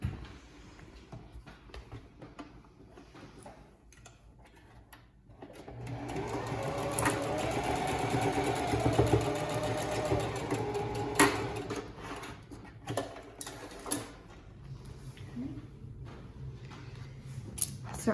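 A sewing machine stitches fabric for a whale stuffed toy in one steady run of several seconds, with quiet handling noises before and after.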